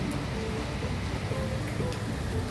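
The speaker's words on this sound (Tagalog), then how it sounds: "So di tayo makaalis kasi umuulan." Steady rain hisses and patters evenly throughout, a dense wash of drops on surfaces with no distinct breaks.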